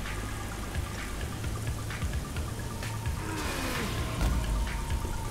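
Steady flowing and splashing water in the Guacamelee 2 video game, a continuous wash of trickling pools and streams running throughout with no one talking.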